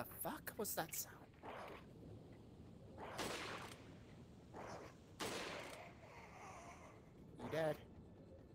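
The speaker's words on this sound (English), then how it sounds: "I'm hearing gunshots." Gunfire in the VR game Resident Evil 4: several sharp, faint bursts and single shots scattered across the stretch, irregular and muffled, with a person talking at times.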